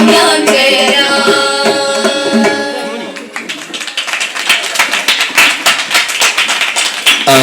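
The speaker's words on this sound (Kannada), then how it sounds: "ಇಲ್ಲಿ ಚಪ್ಪಾಳೆ ಕೇಳಿಸ್ತಾ ಇದೆ." Audience clapping at a live devotional music concert, breaking out as the sung melody ends and swelling into steady, dense applause that carries on loudly to the close.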